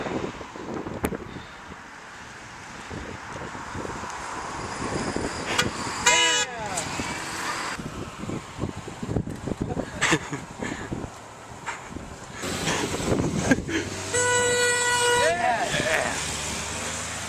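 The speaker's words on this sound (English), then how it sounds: "Honk for Japan." Passing cars honk on a windy roadside in North Dakota, with several short toots and a couple of longer honks over traffic and wind noise, and people talking nearby.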